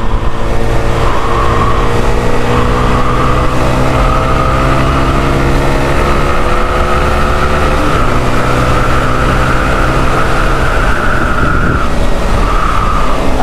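A motorcycle decelerates under engine braking, its engine note holding a steady loud drone with a slowly shifting whine that rises and falls across the passage, with constant rushing wind noise and no talk.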